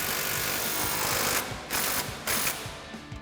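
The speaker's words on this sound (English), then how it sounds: "So this new nut is a 19mm socket, so now we can tighten this down." A ratchet wrench with a 19mm socket clicks in rapid bursts, pausing between strokes, as it tightens the nut on a Bilstein B8 5100 steering damper being fitted to a 2017-2023 Ford Super Duty F250, heard close and loud with no talking.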